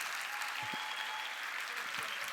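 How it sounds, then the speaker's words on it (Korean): Church congregation applause during a revival service, a soft, steady wash of many hands clapping heard from a distance. "박수 쳐 주세요."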